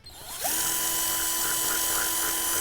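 A cordless screwdriver drills out the holes in the plastic plug socket of a 13 A, 220 V UK-style extension lead. After a brief quiet start, the motor spins up into a steady, high, close whine that continues to the end.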